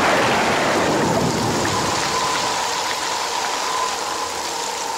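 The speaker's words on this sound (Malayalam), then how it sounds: "എന്നാ ഒരു മഴയാ എന്റെ പൊതു തമ്പുരാൻ കർത്താവേ." A staged rain effect during a comedy stage show produces a loud, steady downpour hiss that softens slightly toward the end.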